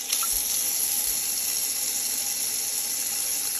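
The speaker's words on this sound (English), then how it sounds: "fill it up with water and let it go" Water runs steadily into a kitchen sink during a garbage disposal repair test, a soft, even hiss of filling water with a couple of faint low knocks at the start.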